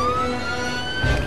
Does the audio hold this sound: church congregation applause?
no